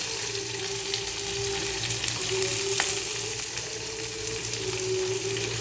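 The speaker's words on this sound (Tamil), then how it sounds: "வெங்காயத்தை போட்டு ஒரு 2 நிமிஷம் 3 நிமிஷம் வதக்கணும்." Chopped onions with green chilies fry in a pan, a moderate, even sizzle with light stirring, steady from start to finish.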